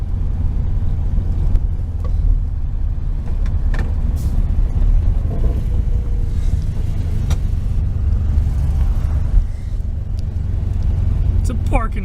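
A 1973 VW Super Beetle with a Dellorto FRD 34 carburetor setup drives in fourth gear: a loud, steady engine rumble and road drone that holds throughout with small surges.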